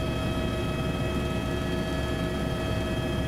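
A light aircraft flies over the Southern Alps of New Zealand near Franz Josef, its engine a loud, constant droning hum with a steady whine heard close inside the cabin, alone without talk.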